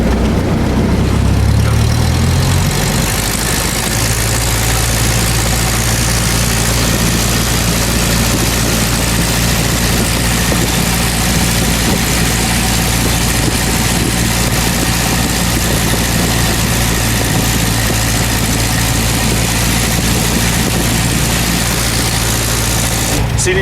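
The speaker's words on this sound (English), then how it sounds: "We'll go ahead and do an engine run up." A small airplane's piston engine idles during a run-up before a flight lesson, a loud, steady propeller drone with a deep rumble that holds at an even level throughout, close to the listener.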